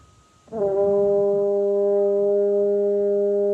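A sustained buzzing French horn lip buzz on one steady middle D, starting abruptly after a short pause and holding loud and unwavering.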